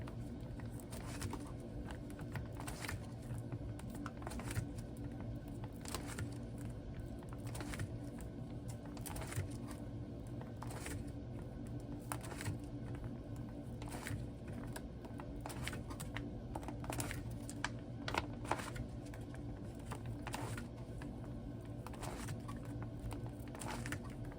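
Glossy photocard binder pages for an aespa collection flipping one after another, a steady run of soft plastic swishes and light taps over a constant low room hum, with no talking.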